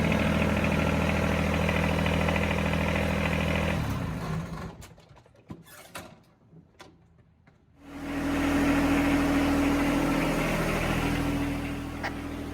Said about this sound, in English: I'm going to start with warming up the engine to get the oil warm